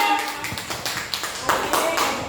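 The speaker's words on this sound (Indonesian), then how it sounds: "Tepuk tangan untuk kita semuanya." Scattered claps from a group of teachers at a positive-discipline workshop, a few loose rhythmic taps rising over murmured voices and room chatter for a couple of seconds.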